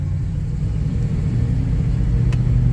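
A 1968 Pontiac Firebird on a shakedown drive, its engine a loud, steady low rumble with road noise, holding an even cruise with no talking.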